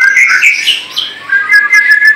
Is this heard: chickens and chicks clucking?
no